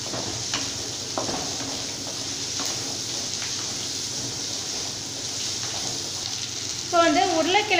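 Steady sizzling of chopped coconut sautéing in a pan, with occasional light clinks and stirring near the end.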